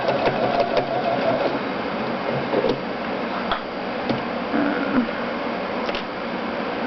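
A sewing machine fitted with a stitch-in-the-ditch foot top-stitches quilt binding, producing a continuous, fairly loud whirring drone with faint ticking throughout and no pauses.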